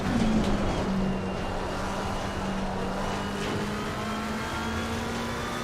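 A race car engine hums at Brands Hatch in Assetto Corsa Competizione, a steady mid-distance drone holding a fairly even pitch, with a brief rise near the start.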